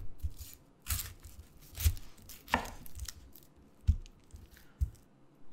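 Garlic cloves being minced with a knife on a cutting board, close crisp chops spaced about a second apart, with a quiet squishy crunch between strokes and no talking.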